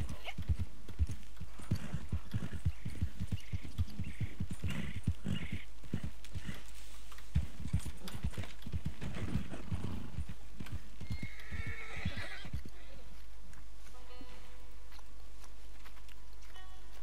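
Horse hooves clip-clopping in steady rhythm with whinnies and snorts from a Norfolk Roadster horse in the video game Red Dead Online, close and clear, with the hoofbeats thinning out toward the end.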